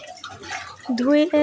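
Flour dough being washed and squeezed in a bowl of water gives wet sloshing and dripping, close and fairly loud, with a voice talking over much of it.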